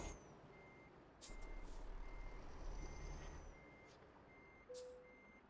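Truck reversing beeps in Euro Truck Simulator 2 multiplayer: a steady run of evenly spaced electronic beeps repeating across the whole stretch, over low engine rumble and a few air-brake hisses, with no talk.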